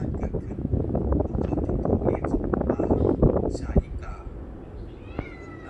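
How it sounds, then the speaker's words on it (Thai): Cats yowl and growl at each other in a tense scuffle, with a person talking over them and a few sharp meows near the end. "อย่าทะเลาะกันนะ แมวบ้านเดียวกันทะเลาะกันไม่ได้นะ"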